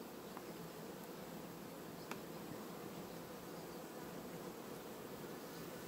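Honeybees hum at a hive where a returned swarm has settled, a faint, steady, even drone from the colony with no voices.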